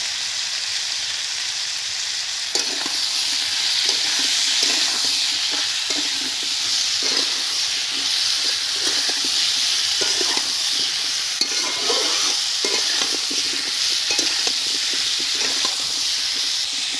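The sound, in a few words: potato and kohlrabi frying in a pan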